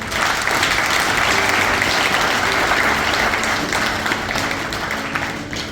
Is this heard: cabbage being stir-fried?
no